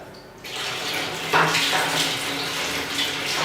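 A developed photographic print rinsed under running water in a darkroom, the tap flow starting abruptly and then pouring in a steady splashing hiss that strengthens partway through.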